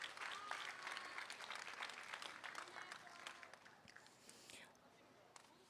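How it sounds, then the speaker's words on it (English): An audience at a registered breeding cattle show at the State Fair of Virginia claps, a fairly distant crowd applause that is dense at first, then thins and fades, with faint murmuring underneath. "let's give Christy a big round of applause"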